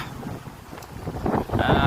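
Strong, gusty wind on a small island during a sudden storm buffets the microphone in a rough, steady roar that grows louder and denser toward the end.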